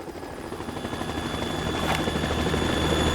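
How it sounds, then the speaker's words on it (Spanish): A helicopter in the Metal Gear Solid 2 video game drones with a steady rotor thrum and whine that slowly builds in loudness, continuous and without speech. "Pues por el helicóptero."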